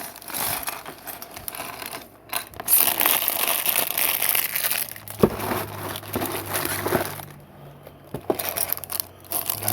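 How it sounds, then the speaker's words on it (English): A plastic bag of Lego parts from a City Space Explorers pack crinkling close up, irregular bursts of rustling and crackling with small plastic clicks and brief pauses between handlings. "I've got my plastic bag of parts here."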